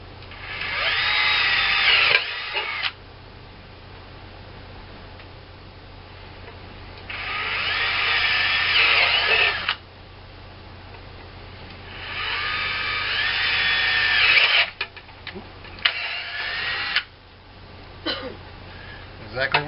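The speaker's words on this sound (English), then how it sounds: "I'm just going to sit here and drill them" A power drill with a bit drills holes into a DIY MC4 solar combiner box, four loud whining bursts of a few seconds each with quieter gaps, close to the microphone.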